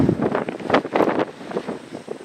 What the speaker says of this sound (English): Well, she's windy